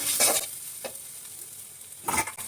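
Ingredients for an egg omelette curry with potatoes are stirred in a frying pan, giving a few scraping spoon strokes over a soft, steady sizzle, close up and fairly quiet.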